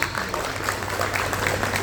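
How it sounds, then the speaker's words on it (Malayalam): An audience at a Nissan Mahabali at Home celebrity event gives a brief, steady round of applause, even and moderately loud from start to finish. "ഇവർക്ക് എല്ലാവർക്കുമായിട്ട് നല്ലൊരു കൈയടി നമുക്ക് കൊടുക്കാം"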